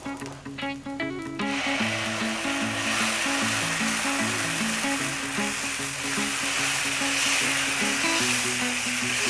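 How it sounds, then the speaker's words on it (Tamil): Dosa batter hitting hot oil for a ghee roast dosa, a loud, continuous sizzle and crackle that swells after an opening scrape and holds steady, with music playing underneath. "இப்போ மீண்டும் கொஞ்சம் எண்ணெயை போட்டுட்டு ஒரு கீ ரோஸ்ட் போட்டுடலாங்களா?"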